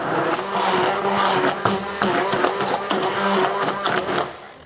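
A blender whirring steadily as it purees mushrooms and cheese with a little olive oil into pâté, a loud continuous motor drone with slight pitch wobbles, close and without talk.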